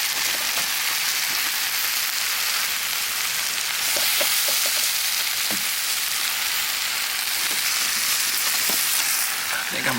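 Sausage and peppers frying in a cast iron skillet over a camp fire, a steady close sizzle with faint pops and crackles throughout, no talk.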